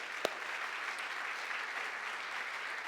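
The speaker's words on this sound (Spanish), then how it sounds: "Dale ese aplauso al Señor" A church congregation applauds steadily, a dense wash of many hands clapping at a moderate distance, with no talking over it.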